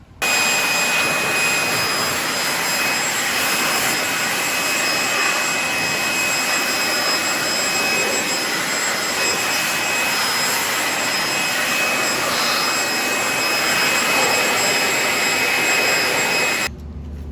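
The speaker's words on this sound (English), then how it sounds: "we're going to just use the leaf blower for that" A leaf blower roars continuously at close range, blowing debris out of a car's engine bay, a steady loud rushing whoosh that stops abruptly at the end; no talking.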